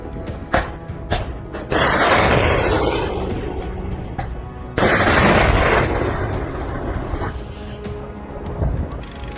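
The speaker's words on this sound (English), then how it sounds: "After making a shot, the missile flying in the air is capable of traveling at a speed of 900 kilometers per hour" A Ukrainian Neptune missile launches with two loud, roaring blasts, each a broad sustained rush lasting a few seconds, with sharp cracks and thumps scattered around them.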